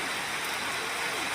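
A brief stretch of easing rain, a steady uniform hiss with no distinct drops or other sounds standing out.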